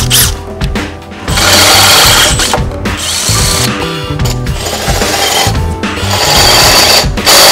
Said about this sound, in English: Now we're going to go in with a 3/8 bit.